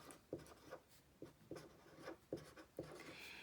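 A pencil or pen writes a math answer by hand on paper, with close, faint scratchy strokes in an uneven rhythm of short bursts, with no speech.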